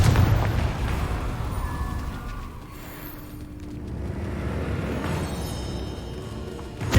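The Confringo fire spell goes off in the video game Hogwarts Legacy as a loud, rumbling explosion that roars across the whole stretch, swelling and fading without a break.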